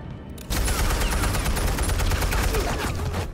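Heavy sustained gunfire in the Telltale Batman game erupts suddenly after a brief quieter moment, a loud, steady fusillade of rapid shots close by.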